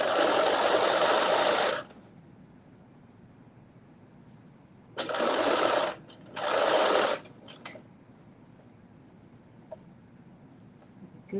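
An electric sewing machine stitches a facing onto a McCall's 8370 garment in short runs: a loud whirring burst at the start, then two more bursts a few seconds later separated by quiet pauses, with no talking.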